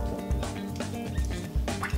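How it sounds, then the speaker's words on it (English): Ketel One vodka pours into a Boston glass packed with ice, giving soft liquid gurgles and small clinking drips with low thumps, close and fairly quiet, with a faint background tone. "I'm going to start with 30 mils of Kettle One vodka"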